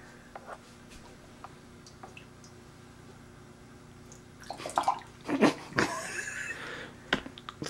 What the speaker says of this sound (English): Just pour it right on the drain.